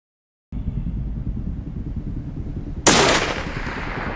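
During a bear hunt in Alaska, a single loud gunshot cracks over constant wind or engine rumble and then rings out and decays.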